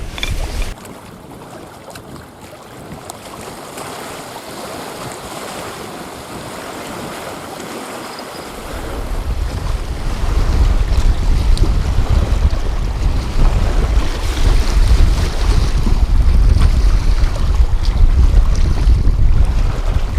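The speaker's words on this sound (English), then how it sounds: "how much of this wind and waves I'm going to put up with" Strong wind buffets the microphone on a lake during spring catfishing, with waves washing steadily. The gusts swell much louder about halfway through and stay heavy, and no one speaks.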